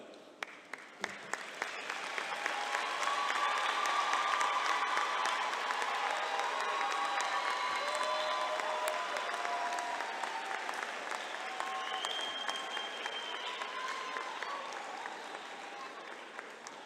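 A large graduation commencement audience applauds with sustained, dense clapping that swells early, holds steady, and slowly thins out toward the end.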